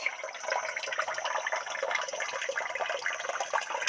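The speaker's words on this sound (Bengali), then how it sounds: "ভালো করে ধুয়ে নেবো এক গামলা জলে ধুয়ে নিলাম" Fresh lote fish (Bombay duck) being rinsed by hand in a large basin of water, a steady close sloshing and splashing with a continuous trickle, alone without speech.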